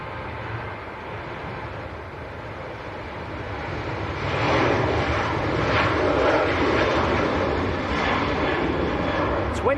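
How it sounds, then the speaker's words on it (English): A Jet2 Boeing 737-800, about 25 years old, begins its takeoff roll at Leeds Bradford Airport, a distant engine roar that swells midway and holds as a broad steady rumble. "Right, next departure's just starting the roll. And this will be Jet2 to Dalaman in Turkey"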